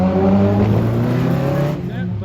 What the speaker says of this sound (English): Yeah, but very difficult to launch that car.